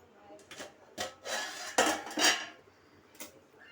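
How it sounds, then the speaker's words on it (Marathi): Metal lid scraping and clinking against a pot of cooked dal khichdi, several close rasping scrapes and clanks in quick succession. "आता मी झाकण काढते."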